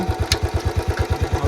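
A motorcycle idles nearby with its silencer newly changed, giving a steady, even thump of exhaust pulses at a quick regular beat that stays loud and close throughout.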